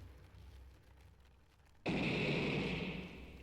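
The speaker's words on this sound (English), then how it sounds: "Explosion?" Quiet rumbling suddenly gives way to a loud, sustained blast of noise as an explosion goes off in the video game Midnight Train, the roar lingering and slowly fading over the last second and a half.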